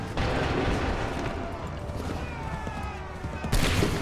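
A musket volley rips out in Assassin's Creed 3, a loud dense crackling burst of massed gunfire that rolls on through the clip and ends in a sharp final crack, with battle noise and shouted orders around it.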